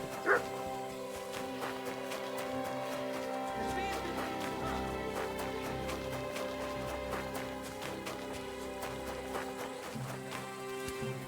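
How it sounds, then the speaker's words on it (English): Dog barking in the medieval game Kingdom Come: Deliverance 2, a few sharp yips and barks set against a steady bed of game music and ambience, with voices speaking. "Cut off that dog!"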